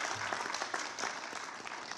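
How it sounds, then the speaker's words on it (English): Short burst of audience clapping at a United Nations event, many hands applauding steadily at moderate volume for a couple of seconds. "So somebody should clap on that one."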